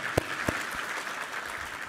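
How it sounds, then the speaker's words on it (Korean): Church congregation clapping in praise during a Korean worship service, a few distinct claps at the start giving way to a soft, dense patter of applause across the room. "우리 하나님께 감사와 영광의 박수 올려드리겠습니다."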